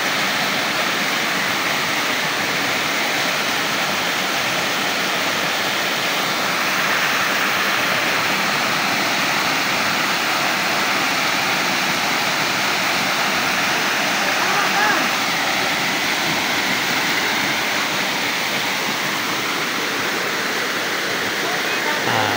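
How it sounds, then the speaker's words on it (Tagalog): Banahaw Falls in Merida, Leyte, swollen after rain, roars as a steady, loud, broadband rush of falling water, close and unbroken for the whole stretch. "Banahaw Falls."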